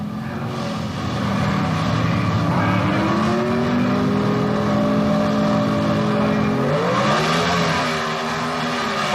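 Ford Mustang and Chevrolet Monza drag racing at the NHRA Spring Nationals in 1977: a loud, sustained roar of engines throughout, with rising and shifting pitch as the cars accelerate and shift gears, no talk.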